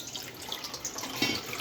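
A tumbler of water poured into a pan of milk and ghee on the stove, a brief gentle splashing trickle with light plinks, quiet and close.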